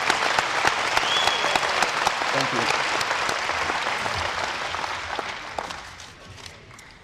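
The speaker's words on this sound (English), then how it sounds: "So let's give them a round of applause." Audience applause for Canadian allies at a D-Day 75th anniversary ceremony at an air museum in Minot, North Dakota, loud sustained clapping that fades toward the end, with a brief spoken thanks over it.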